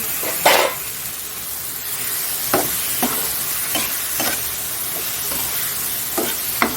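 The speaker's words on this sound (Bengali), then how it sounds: "ডিমটাও দিয়ে দিচ্ছি ডিমটা একটু কষিয়ে যাবে এর সাথে" Eggs sautéed in a pan with spices, a continuous sizzle broken by about eight sharp, irregular scrapes and knocks of a spatula stirring, fairly close and without talk.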